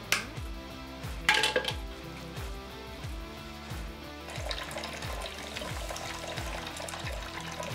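A 3/4 inch PEX water line that was accidentally drilled through is cut with a sharp crunch, then leftover unpressurized water trickles and drips out in a steady, close-up stream.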